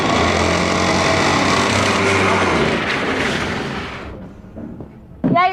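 An engine running rough and making an odd noise, a loud uneven rumble with a droning hum that cuts out after about four seconds, followed by quieter knocks and a brief voice near the end.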